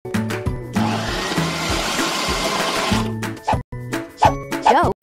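A mixer whirring through ingredients in a kids' cooking game, Chef Kids, a steady buzzing drone lasting a few seconds, framed by short chiming musical jingles and bright interface tones before and after.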